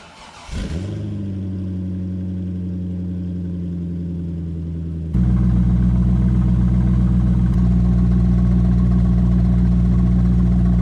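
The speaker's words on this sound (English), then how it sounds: "This is the Summit Racing Next Step Performance Axleback Exhaust" A C5 Corvette V8 fires up with a sharp crank and settles into a deep, loud, burbling idle through a straight-through axle-back exhaust, growing louder and rumblier midway as the exhaust note fills in.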